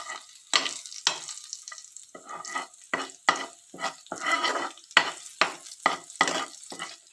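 Chili powder roasting in a pan with softened ingredients, heard as a light sizzle with repeated stirring and scraping strokes in an irregular rhythm, close and moderately loud, with no talking.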